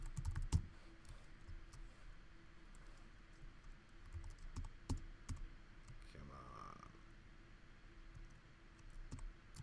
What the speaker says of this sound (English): It's the same keyboard I've been using all day, but right now I can't type on it.